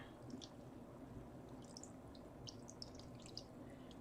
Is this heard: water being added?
yes